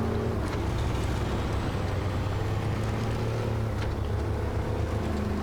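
Heavy industrial truck in the SnowRunner game, its low steady engine drone droning continuously as it churns through thick mud, close and even with no talk.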